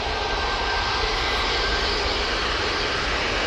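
A Tui airliner taking off from Manchester Airport: a steady, loud broadband jet roar with a low rumble, continuous and unbroken for the whole short stretch.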